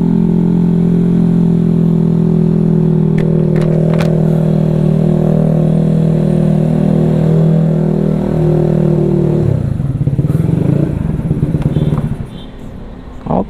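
A Honda Vario 210cc scooter engine during break-in, held at a loud, steady droning rev close to the listener for about nine seconds before dropping back toward idle.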